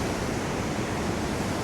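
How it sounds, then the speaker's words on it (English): Steady rushing of a flowing river outdoors, loud and near, a continuous broadband wash of moving water without pauses or voices. "Enjoying the river."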